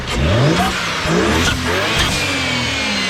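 A loud BMW E90 335i engine revs hard, rising and falling in pitch over a few seconds, with whooshing blow-off valve bursts between the revs.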